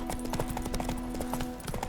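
Geralt's horse Roach trots in The Witcher 3, hooves clip-clopping in a quick, steady rhythm, close and clear over a faint background hum.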